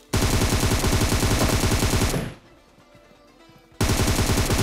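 Loud automatic gunfire in PUBG Mobile, fired from the side, rattles in a dense burst, cuts out for over a second of quiet, then resumes just as heavily.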